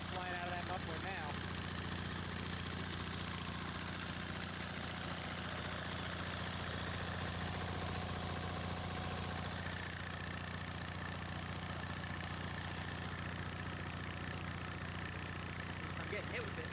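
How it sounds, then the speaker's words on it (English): Engine idling steadily with exhaust blowing hard out of the muffler and debris spraying out, a continuous low rumble and rushing hiss held close and loud throughout. "All kinds of crap flying out of that muffler now."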